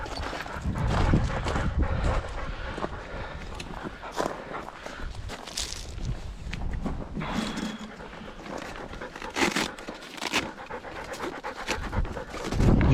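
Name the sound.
dog panting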